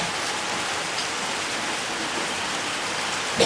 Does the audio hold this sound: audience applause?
no